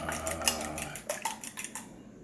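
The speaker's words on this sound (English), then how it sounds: "we're going to start off by beating our eggs" Eggs being beaten in a bowl for keto fish fillets, a run of quick clinking utensil strikes against the bowl, fairly close, trailing off into quiet.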